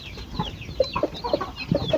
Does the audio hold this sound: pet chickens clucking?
yes